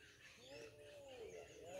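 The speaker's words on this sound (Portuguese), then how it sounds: "Os passarinhos já, ainda estavam cantando." Wild birds sing outdoors in mid-morning, their thin chirping phrases rising and falling steadily at a moderate distance over a soft background hush.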